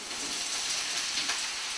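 Zucchini dropped into a hot frying pan, giving a steady, close-up hiss and crackle of sizzling oil that carries on for the whole moment with no talking.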